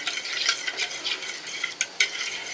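A spoon stirs yogurt mixed with cumin, black pepper and salt in a bowl, giving soft wet scraping and clicks in an uneven rhythm, close and alone.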